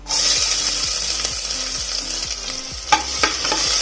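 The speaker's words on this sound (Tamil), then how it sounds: "வெங்காயம் நல்லா கொஞ்சம் கோல்டன் கலரில் வர வரைக்கும் சின்னதாக ஒரு வறுத்துடலாம்" Small onions fry in oil with mustard seeds and cumin for green chilli sambar, a loud, close, steady sizzle with rhythmic spatula scrapes and a few sharp clinks toward the end.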